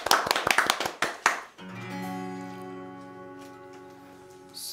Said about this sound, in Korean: 사랑이라는 이유로 박수로 청해 드리겠습니다